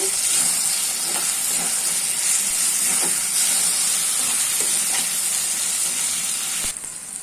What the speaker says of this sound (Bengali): দিয়ে আমি আর একটু ভাজা ভাজা করে নিব।